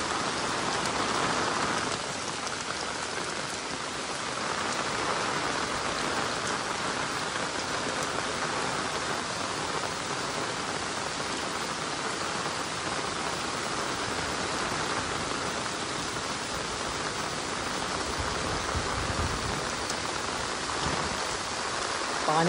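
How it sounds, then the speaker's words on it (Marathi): Heavy monsoon downpour in Konkan, Maharashtra, a steady dense roar of rain pounding surfaces without pause, loud and continuous throughout. "एवढा पाऊस पडला"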